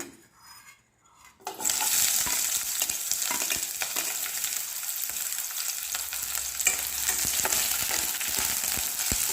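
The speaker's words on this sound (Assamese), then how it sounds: "পিঁয়াজখিনি অলপ ফ্ৰাই হৈছে" Onion frying in hot mustard oil with a bay leaf in the pan, a steady close, loud sizzle that starts after a near-silent second and a half, with occasional stirring scrapes and no talk.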